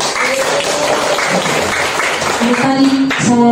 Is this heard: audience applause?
yes